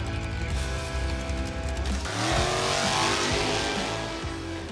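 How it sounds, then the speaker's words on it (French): Dragster race car accelerating hard, a loud roaring engine whose pitch climbs and then surges into a broad rushing blast, close and steady, with no talking. "Elle pilote son propre dragster, une fusée terrestre capable d'atteindre 215 km/h en moins de 5 secondes."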